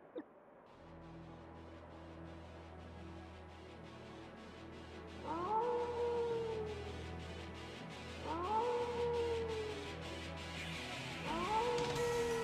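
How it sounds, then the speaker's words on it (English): Three drawn-out rising-then-falling howls from a wolfman creature in the PC game Zwei: The Ilvard Insurrection, spaced a few seconds apart over a steady low game soundtrack, fairly loud and close. "Alright, we got you howling."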